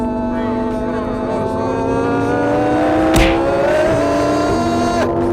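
A Lamborghini engine revs and accelerates loudly, its pitch climbing steadily with a brief shift midway, close and continuous.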